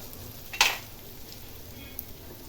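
Mustard seeds and cumin hit hot ghee with a sudden sharp sizzle that quickly settles into a faint, steady frying hiss, with a small tick heard later.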